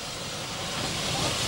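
Narrow-gauge steam locomotive on a Spanish railway, a loud broad hiss of escaping steam filling the whole moment, building slightly toward the end, with no clear beats or voices.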